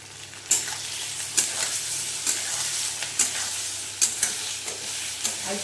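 Ginger paste stir-fried in a pan for sukto, a continuous sizzle broken by sharp, regular scrapes of a spatula roughly every second, close and fairly loud with no voices.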